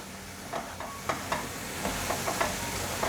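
Mushrooms stir-fried with soy sauce, white pepper, sugar and salt in a pan give a soft steady sizzle. A spatula scrapes and taps the pan several times, close and moderately quiet.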